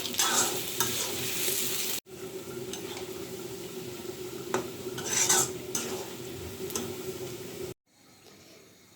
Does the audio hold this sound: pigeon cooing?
no